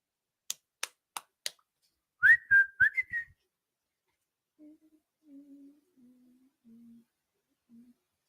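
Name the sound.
referee's whistle blown for kickoff of football match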